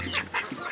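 Young Cornish Cross and Cornish Rock meat chickens make a few soft, close peeps and clucks in quick succession, with a low steady hum underneath.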